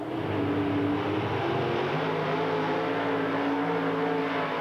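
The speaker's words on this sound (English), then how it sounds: "Gordy Foust 300 feet under power on the tire heating burnout" Gordy Foust's Georgia-based Chevelle drag car doing a tire-heating burnout at Bristol, Tennessee in 1989, a loud sustained engine roar with shifting pitch held steadily throughout.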